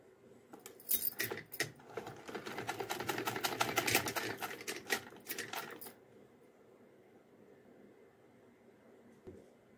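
A domestic sewing machine stitches a small doll dress for a Laddu Gopal idol, a rapid clattering run of needle strokes lasting about five seconds, close and fairly loud, then stopping into near quiet.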